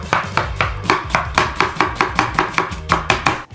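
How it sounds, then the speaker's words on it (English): Steady, rhythmic knife chops on a cutting board, close and crisp, repeating rapidly as an onion is diced, with no talking. "The second marinara sauce begins with us cutting the onion into cubes."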